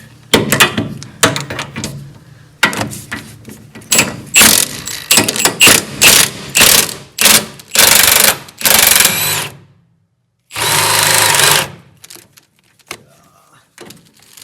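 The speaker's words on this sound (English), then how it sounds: "If I can get the drill in there." A power drill removing a rusty suspension bolt on a Porsche 914 runs in a series of short loud bursts with brief pauses, then one longer whirring run after a silence, mechanical and close.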